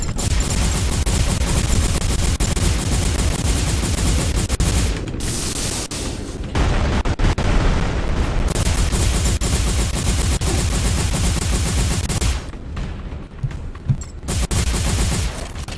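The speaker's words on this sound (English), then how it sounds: "Going to 3. Which is my energy gun." An energy gun fires in sustained rapid bursts in a mech shooter game, loud and close, with brief pauses for reloading and dense impact noise throughout.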